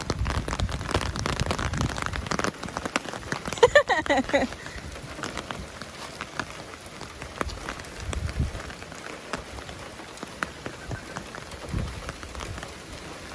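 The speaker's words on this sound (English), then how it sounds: "It's raining hard." Dense, steady rain patters hard on surfaces nearby during a car wash, with scattered louder drips and splashes; voices talk faintly underneath at times.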